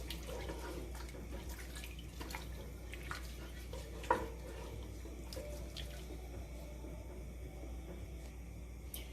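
A cup of water poured into a pot for spinach mushroom apple soup, a steady faint running pour with light splashing and a single soft knock midway, with no talking.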